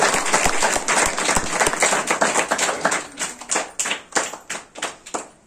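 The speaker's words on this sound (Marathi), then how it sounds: "एकदा जोरदार सर्वांसाठी टाळी वाजवून सगळ्यांचं स्वागत करू" An audience at a talk on Indian culture and values claps in welcome, dense applause at first that thins into distinct, rhythmic individual claps near the end.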